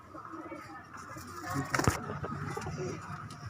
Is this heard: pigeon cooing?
yes